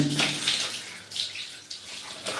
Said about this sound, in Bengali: এখন হাত মুখ ধোবো